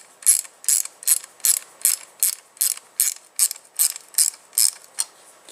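A ratchet loosening the handlebar mount on a 2016 KTM 300 XC-W dirt bike, about a dozen crisp evenly spaced clicking bursts, close and alone.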